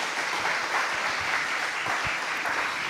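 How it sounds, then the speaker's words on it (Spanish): A church congregation claps together in a steady, dense roar of applause that fills the whole moment, fairly loud and with no voices standing out. "Dale un aplauso al Señor."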